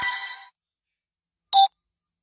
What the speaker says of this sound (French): Je vais l'appeler au téléphone.